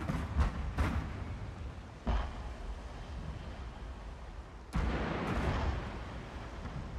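A ship blows up in a Total War naval battle, heavy booming blasts and crackling bursts that strike several times over a rumbling battle din, with no voices.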